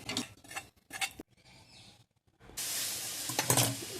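Coconut powder is dry roasted in a pan, with intermittent scraping stirs and then a louder steady hiss near the end, close up with no speech.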